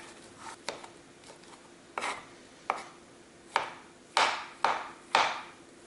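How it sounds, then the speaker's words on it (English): Knife thinly slicing mushrooms on a cutting board: a series of crisp, close cuts in an irregular rhythm, growing louder and firmer toward the end. "Thinly slice the mushrooms"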